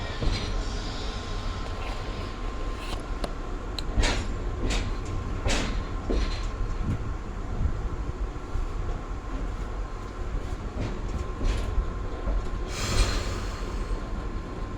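A heritage passenger train rumbles steadily, heard from inside a coach vestibule, with scattered clanks, knocks and a faint squeal.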